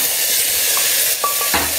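Onion paste with cumin, asafoetida and black pepper sizzles in a pan while being stirred, a close, loud frying hiss broken by brief scraping strokes.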